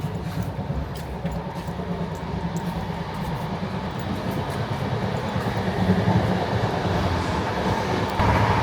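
A passenger train in Poland rolls along with a continuous heavy rumble and faint rail clatter, heard from on board, steady and fairly loud, growing slightly louder toward the end.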